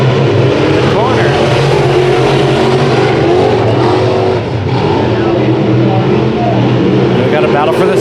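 Race cars roaring around the Bakersfield Speedway oval during heat races, engines loud and sustained throughout with shifting pitch as cars pass close by, under constant commentary.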